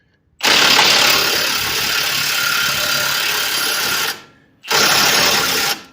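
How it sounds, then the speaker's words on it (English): A Milwaukee 1/2-inch impact wrench with a 24 mm socket drives a ball joint press on a 1999 GMC Yukon, giving a loud, sustained whirring and hammering burst of about four seconds, a brief pause, then a second burst. "I'm using a ball joint press, a 1/2-inch Milwaukee impact with a 24 millimeter socket."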